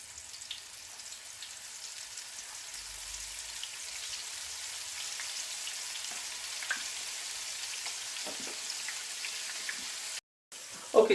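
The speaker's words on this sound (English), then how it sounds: "straight into there, and get them frying off" Food pieces sizzle in hot oil as they fry for a green bean casserole. A steady, soft crackle runs throughout with scattered pops, a brief break near the end and no speech.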